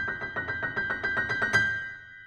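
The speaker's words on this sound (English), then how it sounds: "The first is a chromatic trill starting on a high B and a G" A rapid chromatic trill on piano starting on a high B and a G in a boogie woogie Christmas tune, about a dozen quick even alternating notes played alone before ringing out and fading.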